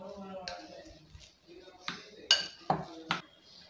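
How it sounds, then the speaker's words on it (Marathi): Sandwich filling for an aloo tikki cheese sandwich mixed in a bowl, with clinking spoon-on-bowl knocks and scrapes in irregular strokes, close by, over some background voice. "हे सगळं साहित्य एकत्र व्यवस्थित मिक्स होईल इथपर्यंत आपल्याला असं मिक्स करून घ्यायचं आहे"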